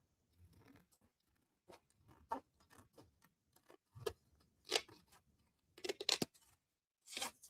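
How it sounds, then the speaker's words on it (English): Scissors cut a triangle out of paper during a paper-crafting session, giving a string of close, crisp snips and crunches in an irregular rhythm, with quiet pauses between them and no talking. "so just take your scissors. We're going to cut away one"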